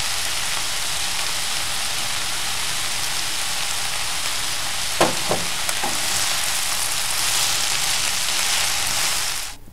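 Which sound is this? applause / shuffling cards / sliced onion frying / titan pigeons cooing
sliced onion frying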